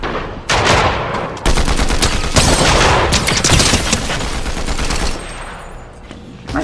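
Assault rifle in Fortnite rattling off several long bursts of rapid automatic fire, loud and close, with brief gaps between volleys before trailing off.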